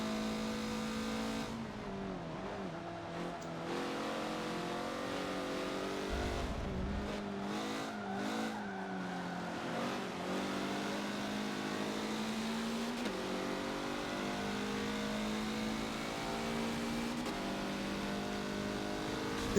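A race car engine revs hard and upshifts on the Suzuka West track in Forza, a steady loud drone of engine note rising and dropping through gear changes, with brief tire squeal and no talk over it.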